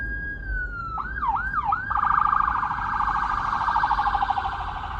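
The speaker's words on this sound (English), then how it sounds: "It's an ambulance." An ambulance siren on a city street wails in loud, close sweeping whoops before settling into a steady, warbling rise-and-fall tone that continues throughout, with no talk over it.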